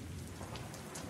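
Steady rain with thunder in a storm sound effect under a narrated story, a dense continuous hiss of falling rain with low rumbling beneath, loud and close, no talk.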